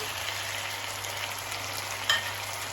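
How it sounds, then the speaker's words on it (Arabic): Peppers, red and green, sautéed briefly in a pan with lemon juice and vinegar, giving a steady soft sizzle that runs throughout with no voices. "احمر على اخضر ونقلبهم بس تشويحه بسيطه خالص"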